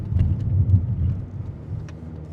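A car driving on the way to work, heard from inside as a low steady engine and road rumble, moderately loud, with a couple of brief faint clicks.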